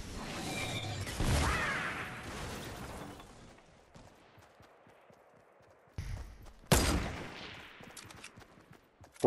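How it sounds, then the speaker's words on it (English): Rocket explosions and gunfire in a video game come as booming blasts with long decaying rumbles, followed by a quieter stretch of scattered shots and then another sharp explosion, with no speech. "Four rockets hit me."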